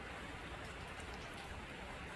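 Rain falls steadily outdoors, a dense, even hiss of drops with no breaks, continuous and moderately faint, and nobody speaks.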